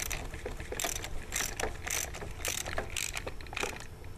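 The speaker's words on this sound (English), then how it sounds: "Okay, and tighten down with the socket." A socket wrench tightens a nut while assembling a Dosatron D20 S dosing pump, giving a quick run of close, crisp ratcheting clicks in regular bursts with no talk.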